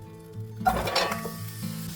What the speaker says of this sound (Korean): 냄비에 들기름 한 큰술 두르고 무를 넣어주세요.